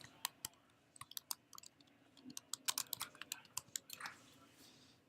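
Quiet typing on a computer keyboard, irregular clicks of single keys and short runs of keystrokes that grow busier toward the end, close and soft.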